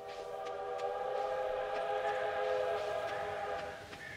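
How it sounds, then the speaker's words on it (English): A train passes in Stardew Valley, its sustained whistle-like tonal drone holding steady for several seconds before fading slightly at the end, with faint clicks and no talking. "A train."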